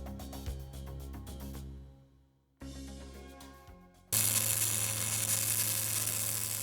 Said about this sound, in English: Compare the weld bead appearance when the welding amperage is changed between 200 amps, 260 amps, and 340 amps.